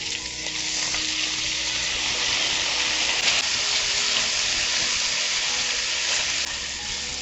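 Tomatoes going into a hot pan of sauteing onions for a scrambled egg dish, producing a loud, continuous close-up sizzle that hisses steadily throughout without any voices.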